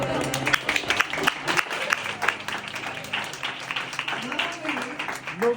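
Audience applause at a devotional storytelling talk in New York, steady scattered clapping of moderate loudness through the whole stretch with a voice talking over it.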